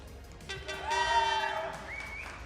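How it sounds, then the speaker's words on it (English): An air horn is blown by the audience at a VR esports grand final in Amsterdam, a single blaring tonal blast swelling and then trailing off with a rising squeal, amid faint crowd noise. "We have some golf claps and an air horn."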